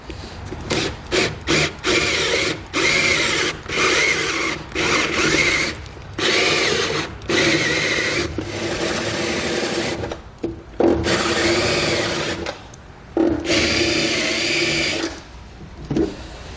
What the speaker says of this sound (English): we're going to come back with our step drill bit and we're going to enlarge them